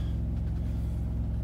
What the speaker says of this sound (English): you can probably hear the APU running